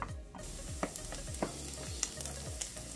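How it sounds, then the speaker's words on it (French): Shallots sauté gently in a pan with a soft, continuous sizzle, accompanied by a few light clicks and scrapes as they are stirred, fairly quiet and close. "on les fait revenir jusqu'à temps qu'ils soient translucides"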